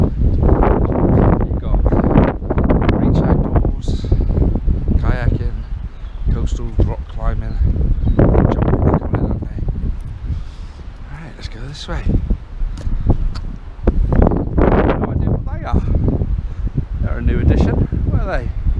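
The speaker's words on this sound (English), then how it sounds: "it's very windy today" Strong wind buffets the microphone outdoors at a seaside spot near a Torbay water park, rumbling and gusting throughout while a person talks nearly nonstop over it.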